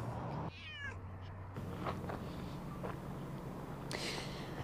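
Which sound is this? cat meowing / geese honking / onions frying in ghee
cat meowing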